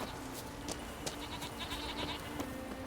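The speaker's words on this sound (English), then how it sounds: "Oh, I see a lot of goats." Goats bleating in The Witcher 3 video game, several short wavering bleats repeating at irregular intervals from nearby animals, over a steady low ambient background.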